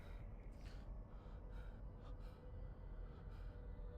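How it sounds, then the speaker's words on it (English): A woman breathing close by in the Hollow Cocoon horror video game, set in the 1980s: soft, gasping breaths and snorts over a low, rumbling ambience. "She's close. I can hear her breathing."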